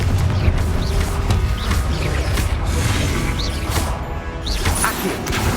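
A Confringo fire spell blasts in Hogwarts Legacy amid a dense, continuous roar of booming impacts and crashing game effects, loud throughout with no talk.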